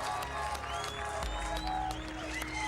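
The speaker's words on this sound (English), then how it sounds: "Put your hands together, make some noise for the finalists." A crowd at the GT Academy finals event applauds and cheers for the finalists, a dense continuous wash of clapping and shouts with a low rumble beneath.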